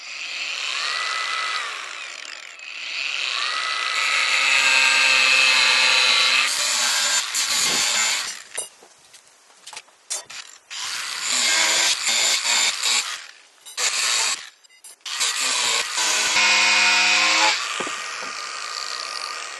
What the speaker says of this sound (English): This is 1/2 inch rebar, and this little blade on this thing is cutting right through it